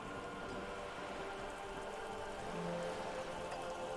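Steady rain ambience from the video game Disco Elysium, a soft continuous patter and hiss of rainfall that stays faint and even throughout.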